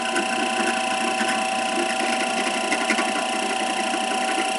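A drill press bores a 3/16 hole through a C-clamped steering plate for a DF XL velomobile, giving a steady, close mechanical whir with a faint rhythmic buzz and no talking over it.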